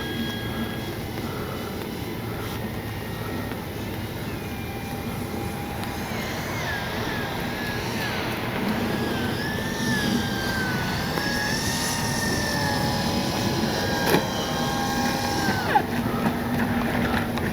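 Scale RC P-51D Mustang warbird, a 1600 mm FlightLine model, flying at its maiden flight, its steady propeller-engine drone holding throughout with rising and falling pitch sweeps as it passes, over faint outdoor background.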